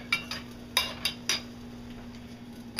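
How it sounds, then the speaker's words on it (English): A spoon stirs oatmeal in a pot, several sharp metallic clinks and scrapes spaced unevenly and close by over a faint steady hum. "Stir my oatmeal a little bit"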